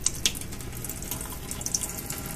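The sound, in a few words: pouring buttermilk off the homemade butter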